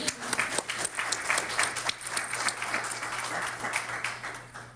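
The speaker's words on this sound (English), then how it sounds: "You can clap for that." Steady applause from a conference audience at a behavioral health prevention event, many hands clapping together at moderate volume for several seconds over a low constant room hum.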